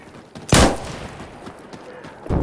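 Gunfire in the video game Insurgency: Sandstorm, with one loud, close shot followed by quieter distant pops and another sharp shot at the end.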